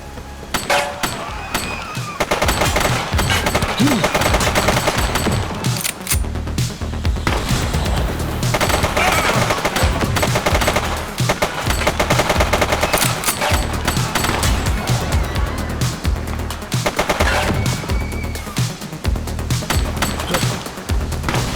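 Rapid, continuous gunfire dominates the police video game The Precinct, with bursts of automatic shots and crashing impacts layered densely throughout, along with occasional shouted voices.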